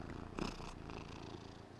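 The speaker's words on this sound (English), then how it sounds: "don't know if you can hear him purring." A cat purrs steadily up close, a soft continuous rumbling drone that carries on without pause.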